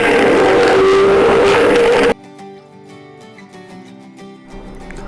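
Kent hand blender mixing a milkshake with crushed biscuits, a loud steady motor whir for about two seconds that cuts off abruptly, leaving quieter clinks and faint background sound.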